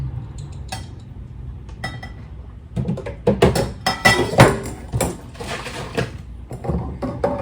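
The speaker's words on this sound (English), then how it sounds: "I will put my stevia in, measure in 2 teaspoons" A teaspoon scoops stevia into a coffee cup, giving soft near clinks and scrapes that build into a busier cluster of metallic taps and rustles midway, then settle, with no talking.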